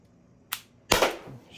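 An Umarex HDP50 pistol fires once: a short sharp click, then a louder, close pop with a brief decaying tail, in an otherwise quiet setting.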